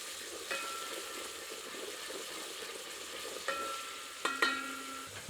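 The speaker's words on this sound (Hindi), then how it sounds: "बीच बीच में करछी चलाते रहें ताकि प्याज समान रूप से भुने।" A ladle scrapes and stirs ground onion frying in a pan over medium heat, giving soft intermittent scraping over a faint, steady sizzle with a few sharper clinks near the end.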